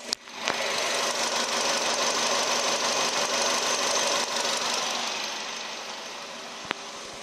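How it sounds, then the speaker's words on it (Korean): A Samsung SM5 Nova LPG car engine idles with the hood open, a smooth, even hum with a fine steady ticking, loud and close at first and then slightly fading as the listener moves away. "LPG 차량이라 엔진 소리 하나는 정말 정숙하다고 말씀드릴 수 있을 것 같습니다"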